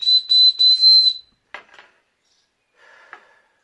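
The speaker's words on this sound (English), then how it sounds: "This has a whistle." A shrill whistle on a fire steel blown in three short blasts, followed by a couple of clattering metallic scrapes and a faint, brief rasp.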